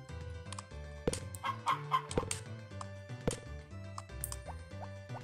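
Chickens clucking in the video game Harvest Moon Back to Nature, a string of short, close clucks and chirps over a looping plinky game melody.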